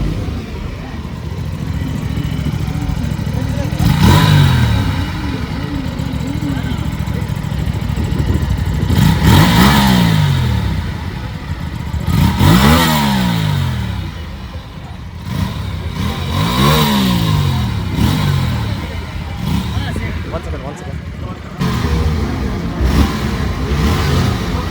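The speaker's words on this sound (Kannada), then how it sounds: "Exhaust note ಕೇಳೋಣಂತೆ ಗಾಡಿದೆ." A twin-cylinder motorcycle at India Bike Week 2023 in Goa idles loudly up close, then its exhaust barks through about five sharp revs that rise and fall, with background voices faintly present.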